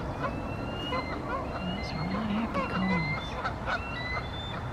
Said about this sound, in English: it certainly sounds like there's another eagle that's landed in those trees over there somewhere